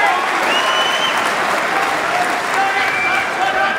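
Snooker crowd at the 2012 Masters final applauding a long pot, steady and loud clapping throughout with a commentator talking over it.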